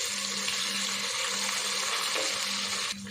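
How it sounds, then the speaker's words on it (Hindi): Water poured into a hot pan of golden frying onions with ginger and garlic for aloo pulao, giving a loud, steady hiss and sizzle that cuts off abruptly near the end. "थोड़ा सा पानी डालेंगे ताकि अच्छा सा कलर निकल आए प्याज का"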